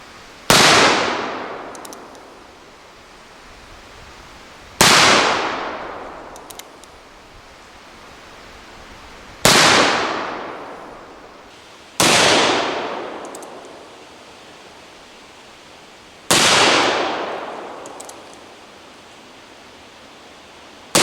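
A Model 1890 Remington revolver fires at steel targets about 15 yards away, five loud, sharp shots spaced a few seconds apart, each followed by a long decaying ring.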